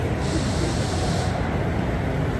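Airbrush spraying body paint during a live bodypaint demonstration at the Transworld 2023 trade show, a steady loud hiss running throughout with no breaks.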